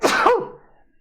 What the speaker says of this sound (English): I have a sneeze coming as well.